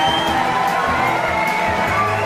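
Guests greet a newly wedded couple with steady applause and cheering, a dense continuous wash of clapping and whoops that stays loud throughout.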